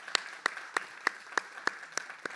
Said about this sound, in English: I'm going to give her a round of applause.